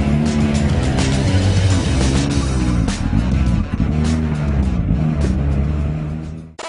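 A Skoda Fabia S2000 rally car with fresh tyres pulls away toward parc fermé, its engine revving loud and close with rising and falling gear pulls, tyres faintly squealing.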